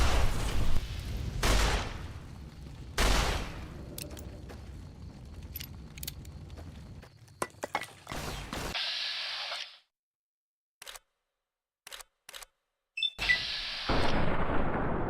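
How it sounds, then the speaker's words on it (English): Gunfire in Fallout: New Vegas, a string of loud sharp shots and bursts with clanking mechanical handling, broken by a few seconds of near silence before more shots close in. "We shot both of his weapons out of his hand on accident."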